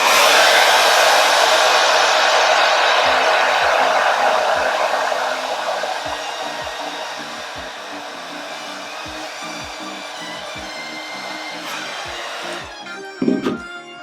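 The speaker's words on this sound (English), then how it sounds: "What I'll do is grab my blow dryer." A blow dryer runs loudly and steadily on a lace front wig, a continuous airy whoosh that eases slightly partway through before it is switched off near the end.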